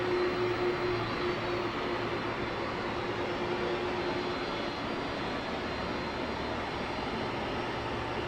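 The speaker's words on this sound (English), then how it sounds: "the size, the magnitude of that plane as it's creeping in there to the Palm Springs International Airport" Air Force One, a large jet plane, creeping in on approach to Palm Springs International Airport, a steady broadband engine roar holding loud and constant throughout with no break.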